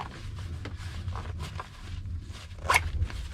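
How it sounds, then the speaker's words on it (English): A bag is zipped shut with several short, raspy zipper pulls in quick succession, close by, followed by a sharper final rasp. "Zip it away"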